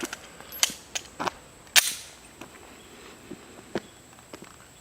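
Glock 19 pistol firing at an outdoor range, a series of about ten sharp, loud reports at irregular spacing, each with a brief decaying echo.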